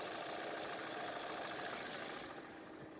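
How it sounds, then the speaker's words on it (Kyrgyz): Car engine idling smoothly, a steady, even mechanical hum heard close and fairly quiet, easing off slightly toward the end, with no talking. "калган жагы мотор ровно иштеп турат"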